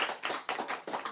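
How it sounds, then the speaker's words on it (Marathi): A small audience clapping at a comic stage performance, a short burst of uneven claps heard close and without talk. "टाळ्या वाजवा बरं त्यांच्यासाठी"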